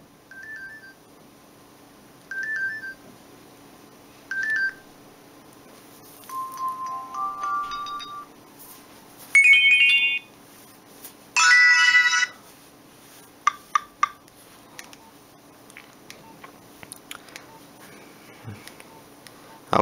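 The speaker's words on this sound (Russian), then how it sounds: "Есть также сигналы, например, для будильника." Alarm signal tones from a Nokia 5000 mobile phone, a series of short electronic beeping melodies played one after another with pauses between, clear and close, with no talking.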